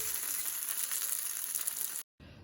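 Crispy dosa cooking on a hot pan, made from homemade batter, with a steady bright sizzle that holds evenly and then cuts out abruptly near the end.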